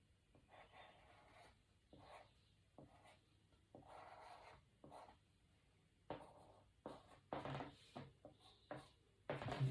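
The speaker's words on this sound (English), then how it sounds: "I'm just going to use my pastel pencil for a moment." A pastel pencil scratches across paper in short strokes and pauses, quiet and close, building into quicker, firmer bursts of scribbling toward the end.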